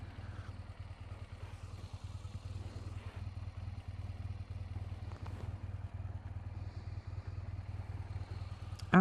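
A motorcycle engine runs at a steady low rumble during a ride, constant and fairly quiet with faint clatter, ending in a brief louder knock.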